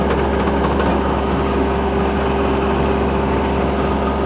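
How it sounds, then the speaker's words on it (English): A garden tiller's small engine runs steadily nearby with a constant low drone and vibrating hum, no talking over it. "now I'm going to drive right alongside of the run with this tiller"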